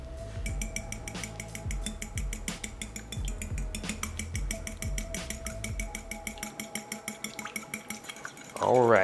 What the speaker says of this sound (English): And then we're gonna use our fork to whisk these up.